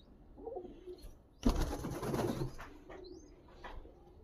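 Lali Fansa pigeons coo softly and close by, with a sudden burst of wing flapping in the middle and a few fainter coos after.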